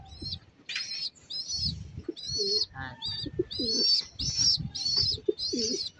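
Racing pigeons coo at their loft in San Pablo, Laguna, with repeated low throaty coos that alternate with higher bird calls in a steady run, close and clear, with no talking.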